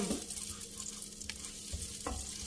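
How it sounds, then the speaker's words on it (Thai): Chopped garlic fries in a pan for a truffle mushroom cream spaghetti, a faint steady sizzle broken by a few quiet stirring scrapes. "เจียวกระเทียมให้หอม"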